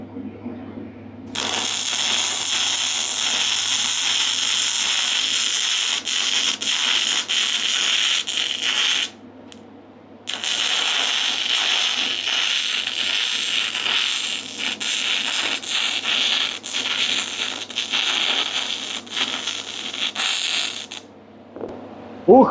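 Jasic MIG-200 or MIG-270 semi-automatic welder running a 1.2 mm wire with the fume extractor on, a steady loud crackling buzz that starts after a second, breaks briefly midway, then resumes until stopping near the end.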